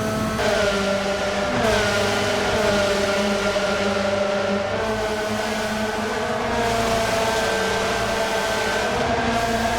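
A racing car engine in Gran Turismo 7 holds high revs steadily and loudly for about ten seconds. Its harmonic whine dips and climbs again as the car shifts, with no talking over it.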